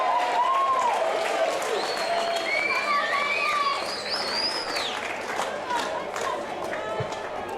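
A fanatical football crowd at Alberton cheers after a goal at a 2019 SANFL match between Port Adelaide and Glenelg: a broad, sustained roar with whistles rising over it while a commentator keeps talking.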